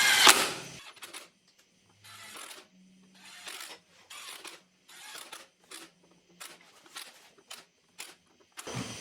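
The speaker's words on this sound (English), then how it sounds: "Now we're just gonna tighten these up." Hub bolts on a Dana 60 axle being tightened with a hand tool: a series of short, ratcheting bursts separated by brief pauses, close up, with no talking.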